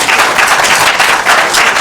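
An audience at a school quiz competition between Mawuli School and Okuapemman Senior High breaks into applause, a loud, close burst of clapping that swells and dips in uneven waves over a couple of seconds.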